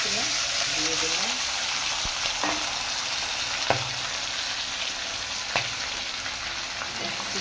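Chopped vegetables and cumin tempering hit hot oil for a Bengali katla fish curry, giving a steady close sizzle with a few sharp stirring clacks of a spatula against the pan.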